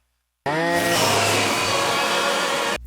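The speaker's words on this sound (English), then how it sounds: "Art takes the chainsaw and splits him where the Lord hit him" A chainsaw roars to full throttle abruptly and runs loud and steady for a couple of seconds before cutting off.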